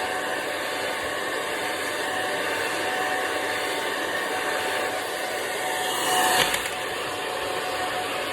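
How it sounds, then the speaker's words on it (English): A Babyliss Pro blow dryer roars steadily at close range while it dries and volumizes hair, with a brief surge in pitch near the end as it moves. "the blow dryer that I'm using is a Babyliss Pro"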